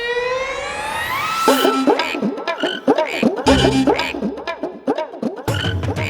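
Frogs croak in a rapid, dense chorus of repeated calls, loud and close, following a rising whistle-like sweep at the start.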